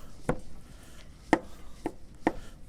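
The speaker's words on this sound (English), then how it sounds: "I'm just going to chop these up" A knife chopping mushrooms on a cutting board, heard as four sharp, separate chops with gaps between them, close and fairly loud, with no talking.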